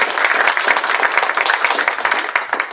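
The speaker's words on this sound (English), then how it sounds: "So maybe a round of applause for them." Audience applause for the organizers at a welcome session of an academic workshop, a steady dense wash of many hands clapping close by and moderately loud, with no talk.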